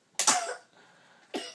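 Two sharp coughs from a person who is trying to finish singing: a strong burst at the start, a fainter tail, then a second cough just over a second later, close and alone.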